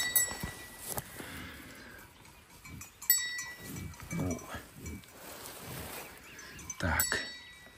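Cowbells on cows clink and ring faintly and irregularly in a Carpathian forest, with occasional livestock calls and low rustling nearby.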